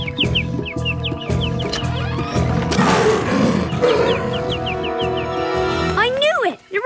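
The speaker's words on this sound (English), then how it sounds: "The recorded roar scares them just like the real one." A recorded panther roar plays in an animated cartoon, a loud rough burst midway through, surrounded by chicken-like clucking, animal calls and bright musical tones with voices.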